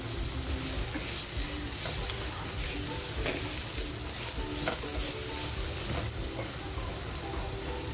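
Garlic tossed into a hot pan of oil sizzles loudly and continuously, with stirring scrapes through the frying, while cooking spiced pomfret in banana leaves.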